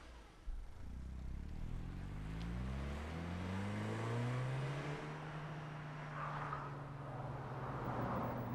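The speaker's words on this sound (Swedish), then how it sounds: "Sen ut i undanmanöverbanan och vi börjar med 60." A Volvo 850 accelerating into an evasive-maneuver test course at 60 km/h, its engine note rising steadily and droning on, with tire and wind noise and no talking.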